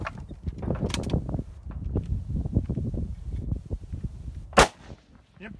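A single sharp rifle shot at a precision rifle club match stage rings out near the end, loud and close, preceded by quiet rustling and handling noise with no talking.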